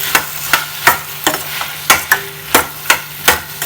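Masala mixture stirred in a pan for a cauliflower dish, a spoon scraping in steady rhythmic strokes about every half second, close and clear over a faint sizzle with a low steady hum.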